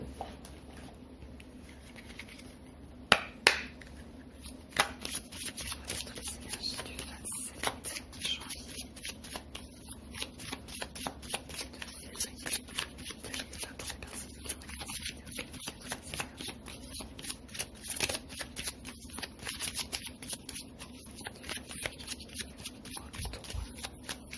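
Oracle cards are shuffled by hand in a long, continuous run of quick, crisp riffling clicks and soft slaps, quiet and close over a faint background hum, without speech.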